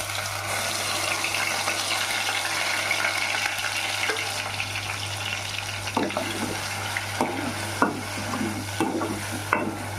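Masala paste for a capsicum curry fries in hot oil in a pan, giving a constant hissing sizzle, with intermittent scraping stir strokes in the second half and a faint steady hum underneath.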